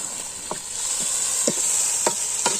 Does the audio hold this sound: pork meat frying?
yes